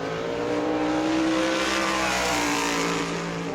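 The Austin Beers race car runs on track during World Series qualifying at New Smyrna, its engine a loud, sustained roar with a steady high pitch that holds throughout.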